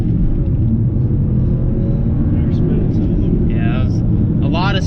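BMW 335i with a Cobb Stage 1 tune launching hard with wheelspin: a loud, continuous engine roar and low rumble dominate throughout, with rising squeal-like tones near the end and voices mixed underneath.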